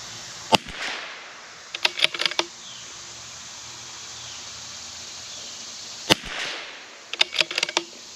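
A CZ 457 rifle fires at a metal target, and several sharp cracks come in small clusters against quiet outdoor background, with a distinct first shot and then rapid groups of reports.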